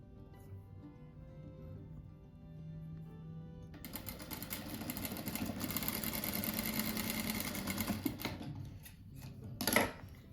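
Sewing machine stitching fabric squares and pink strips for a patchwork rug, a steady mid-loud mechanical whir running for several seconds after a quieter start, then stopping with a brief rattle.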